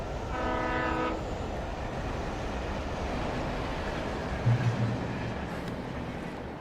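A train passes the railway tracks in the video game Alan Wake Remastered. A horn blast opens over a steady, heavy rolling rumble that fills the clip, with no speech.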